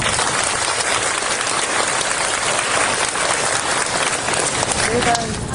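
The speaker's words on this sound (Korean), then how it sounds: "뜨거운 박수 한번 부탁드립니다." Dense, sustained applause from a large crowd at a school support agreement signing ceremony, loud and steady throughout, with no break in the clapping.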